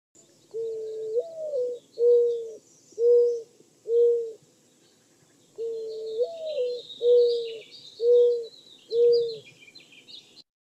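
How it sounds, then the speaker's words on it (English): Mourning dove cooing alone in a quiet outdoor setting: two repeated phrases, each a rising first coo followed by three or four steady low hoots, fairly close and clear. "it's another sound effect bird, the mourning dove. Have a listen."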